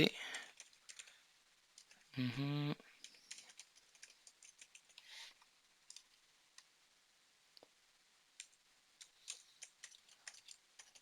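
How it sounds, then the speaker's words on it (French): Scattered clicks of a computer keyboard as a password is typed during an Azure PowerShell session, irregular soft taps spread across the clip with a short vocal sound near the start. "Tape le mot de passe."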